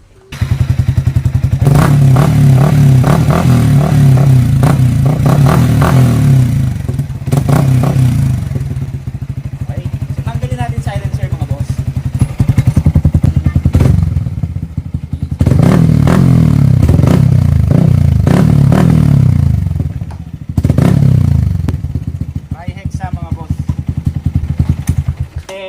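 A Yamaha Sniper 155 fitted with a Tri-Hexa muffler and silencer revs loudly and close up in repeated bursts, with brief drops to idle between the blips.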